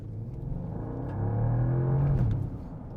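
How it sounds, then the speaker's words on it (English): 2025 Bentley Continental GT Speed Hybrid V8 engine accelerating in sport mode, a deep muffled rumble swelling as revs climb, peaking then easing off, heard from inside the cabin. "The V8 definitely comes to life."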